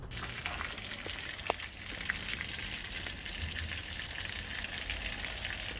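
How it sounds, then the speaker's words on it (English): Boat outboard motor being flushed with engine flush through a hose, a continuous hissing gush of water with small splashes and drips, moderately loud and steady, with no voices. "I'm just going to turn that on and flush the motor."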